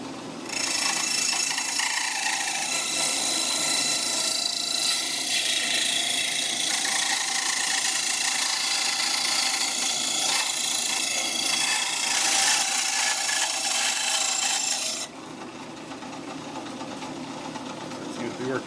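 A drill press grinds steadily through the wood of a tenor guitar being built, a close, continuous rasping whir for about fifteen seconds before the cutting noise drops away to a softer motor hum.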